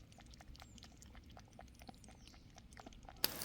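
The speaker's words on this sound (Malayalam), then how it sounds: "വെള്ളം കുടിക്കുന്ന ഒച്ച കേൾക്കണോ" Soft, quick lapping of water being drunk up close, a steady run of faint wet clicks over a quiet indoor background, with a sharper knock near the end.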